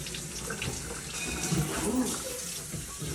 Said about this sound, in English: I'll give it a rinse out in the sink, just till it's all clean and the milk residue's out of it.